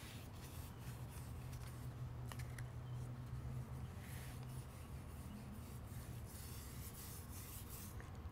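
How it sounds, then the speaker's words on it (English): A brush spreads tung oil over cedar wood, making a quiet, continuous soft rubbing and swishing of bristles close by, faint but steady throughout. "I like to use a brush to get as much of the oil on there as possible"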